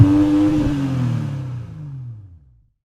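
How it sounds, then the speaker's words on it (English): A loud BMW 440i engine revs up close through large exhaust pipes then winds down, its exhaust note dropping in pitch and fading out to silence. "We've also got these enormous exhaust pipes on this car"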